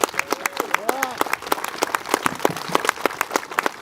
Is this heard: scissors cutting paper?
no